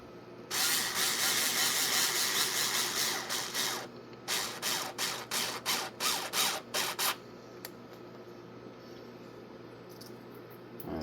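A ratchet tightens bolts with a long run of rapid clicking, then a pause and a series of short, evenly spaced ratcheting strokes, close and clear before quieter background.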